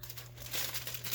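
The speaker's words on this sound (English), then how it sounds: "Apply a sheet of paper." A sheet of sublimation paper handled and laid onto a shirt gives a close, soft crinkle that builds in the second half, over a steady low electrical hum.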